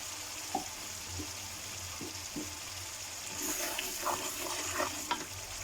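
Cabbage sabzi stir-frying in a pan, with soft sizzling and occasional scraping stirs of a spoon, quiet and close, growing a little busier toward the end.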